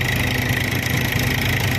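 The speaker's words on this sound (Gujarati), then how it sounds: "આજે આપણે 22 નંબર મગફળીમાં જો ટ્રેક્ટર આલે છે સર, ને જો આ મગફળી કાઢવાનું કામ ચાલુ છે" A tractor engine runs at a steady idle-like drone in a groundnut field during harvesting of the No. 22 groundnut variety. The low, even rumble is close and continuous, with no talk.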